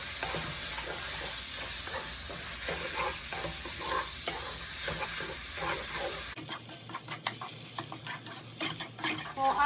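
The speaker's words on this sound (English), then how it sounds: "So I want to saute this rice for about 3 minutes" Rinsed rice being sautéed and stirred in a pan, with a steady bright sizzle and repeated scraping strokes that go on throughout, the frying noise fading to a thinner crackle toward the end.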